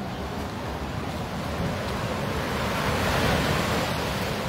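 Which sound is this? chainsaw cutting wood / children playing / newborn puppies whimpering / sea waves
sea waves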